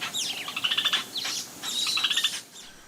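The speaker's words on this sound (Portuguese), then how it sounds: "os passarinhos ficam cantando." Small songbirds in the Amazon rainforest sing in bright, rapid chirping phrases, two close bursts of warbling and trills with a brief pause between, fairly near and alone without voices.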